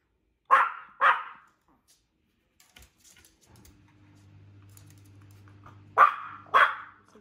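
Indoors, a dog gives two sharp barks, goes quiet through a low hum, then barks twice more at close range.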